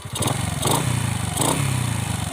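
A Honda Dream motorcycle engine with its original block and a 55mm piston, running steadily at close range with a throbbing idle and a few soft blips of throttle.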